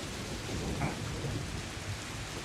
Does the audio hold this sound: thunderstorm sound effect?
yes